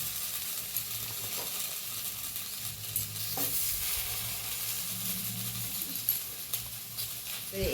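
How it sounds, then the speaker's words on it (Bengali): A spoon scrapes and stirs through sizzling spinach in a pan, with steady frying crackle and a few louder clanks, close up and without speech. "এই ঢাকাটা খুলে আমি নাড়াচাড়া করে নিচ্ছি"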